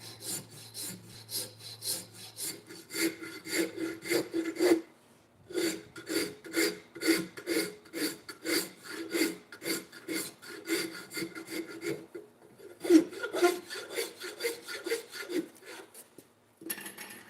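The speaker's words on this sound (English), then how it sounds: "I think rasping is kind of a lost art, using a file, hand-drawn stuff." A hand rasp files a wooden hammer handle in steady back-and-forth strokes, close and loud, with short pauses between runs.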